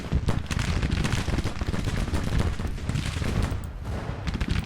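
Dense, continuous musket volleys from a Civil War battle in the strategy game Grand Tactician: The Civil War, a crackling, rolling barrage of overlapping shots with heavy low rumble, sustained throughout.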